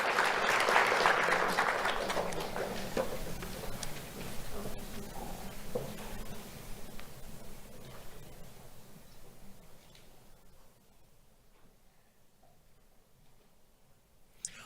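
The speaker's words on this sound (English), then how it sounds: "Let's have a round of applause for Audrey Lilgren." An audience claps for a school award honoree at a Do The Right Thing awards ceremony, loud applause at first that gradually thins and fades to quiet over several seconds.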